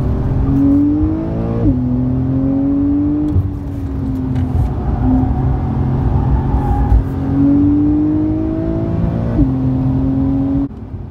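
Porsche 911 Type 992 driving on the Hockenheim track, its engine loud and close as it revs up through the gears, with clear upshift drops and a steady rising roar.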